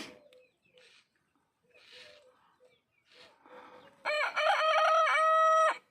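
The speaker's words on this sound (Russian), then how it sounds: "Все-таки кукарекает, а я думала, что нет." A domestic rooster kept with hens in a backyard coop lets out one loud, close crow in the last two seconds, after a few faint, scattered sounds that may include a quiet voice.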